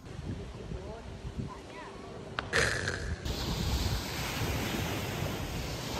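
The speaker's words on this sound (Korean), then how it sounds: "바닷소리가" Sea waves washing onto a beach on Phu Quoc, Vietnam, a steady hiss of surf with light wind, fairly faint and continuous, with a brief knock partway through.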